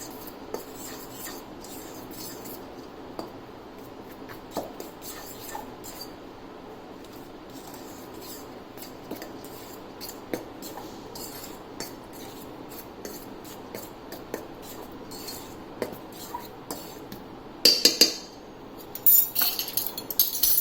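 Flour, salt and asafoetida being mixed by hand in a bowl for omappodi (sev), a soft continuous rubbing and scraping with faint clinks, a little louder near the end.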